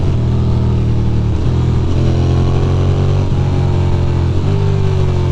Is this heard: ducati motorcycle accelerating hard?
yes